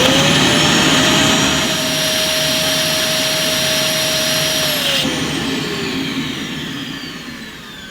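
A Vytronix budget bagged cylinder vacuum cleaner runs loud and close with a roaring airflow and a high whine whose pitch rises and then falls away as suction is sealed off and released.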